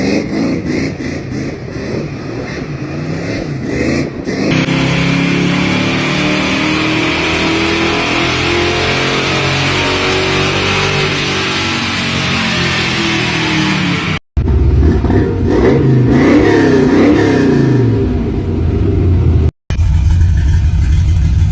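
A 1967 Buick Special fitted with long tube headers and a Generation 1 Duster exhaust revs loud and close. Its engine note rises and falls in long sweeps, with brief cuts between passes and no talking.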